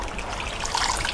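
Water drains and trickles off washed potato slices for homemade wafers in a kitchen, a close, continuous splashing dribble with no talk.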